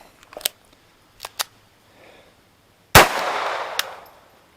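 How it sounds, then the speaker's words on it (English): Pistol rounds being pressed into a Glock 19 magazine: a few crisp metallic clicks close by, then a sharper snap followed by a brief rattling burst. "We're going to load these last 4 rounds again."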